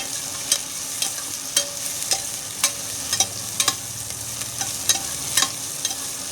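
Onions and green chillies sautéing in a pan: a steady sizzle of frying with repeated sharp scrapes and clinks of a spoon stirring, close and without talk.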